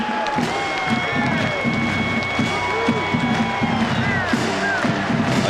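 A college football stadium crowd roars and cheers steadily at a loud, constant level, with a commentator talking over it throughout.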